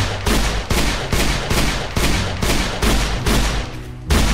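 Rapid, loud gunfire bursts repeat in a steady rhythm during a Minecraft game, the shots closely spaced and continuous with a short break near the end.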